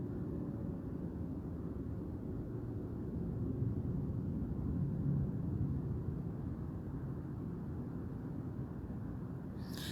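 Plane engines rumble overhead as a steady, continuous low drone that holds at an even level throughout, with no voices over it.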